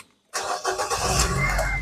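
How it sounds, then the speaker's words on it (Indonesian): A 2010 Nissan Grand Livina 1.5 XV with manual transmission starts up after a moment of silence, catching immediately with a brief crank and settling into a loud, steady engine running close by. "Sekarang kita coba start mobil."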